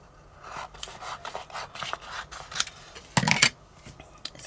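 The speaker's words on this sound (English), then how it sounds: "So all I'm going to do is just cut some vinyl off." Vinyl sheet being cut by hand, giving a series of short scratchy snips and rasping strokes, with a louder burst near the end, close and fairly quiet.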